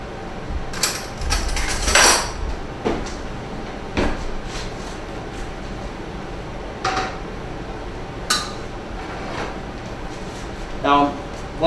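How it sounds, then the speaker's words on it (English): In a home kitchen a drawer is opened and a spoon is grabbed, sharp metallic cutlery clinks and rattles with drawer knocks scattered in irregular bursts, close and clear, with a few later clatters. "I'm gonna grab a spoon out of here."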